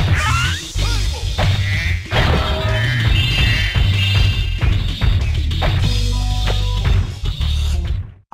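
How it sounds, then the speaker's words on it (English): Spyro smashing a boulder in Spyro: Year of the Dragon at Evening Lake: a series of loud crashes and thwacks with rubble breaking apart, over a steady low rumble of game audio. "it'd be really cool if you smashed that boulder"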